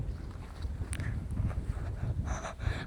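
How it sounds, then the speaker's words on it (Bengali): Strong wind buffets the microphone on an open sandy river char along the Padma in Kushtia, a steady, rumbling roar with gusty surges and no voices. "এখানে মানে দাঁড়ানো যাচ্ছে না, অনেকটা বাতাস"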